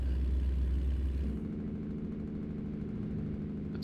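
A Kenworth W900 truck idles in American Truck Simulator, giving a low, steady rattling rumble that shifts to a lighter, even chug partway through.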